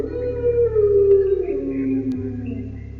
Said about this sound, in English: It was around then that I started to hear the howling.